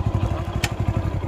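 A cheap E Kick electric scooter rides over rough dirt ground in a field, giving a fast, regular clattering rattle from the bumpy ride, with one brief bright hiss partway through.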